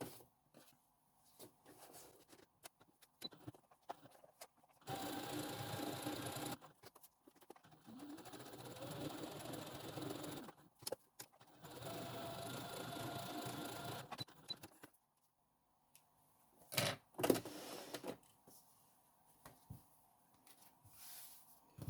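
Sewing machine stitching a faux leather seam, running in two sustained bursts with pauses and small handling noises between them, nearby and fairly loud.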